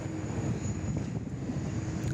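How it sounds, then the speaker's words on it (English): An Airbus A330 taking off from runway 34 left at Sydney Airport, a steady loud engine roar with low rumble that stays even throughout, no talk. "A330. Just cleared for takeoff from runway 34 left."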